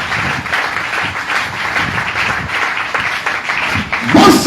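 A church congregation applauding together, a steady wash of many hands clapping at close range, swelling louder in the last moment with some voices mixed in.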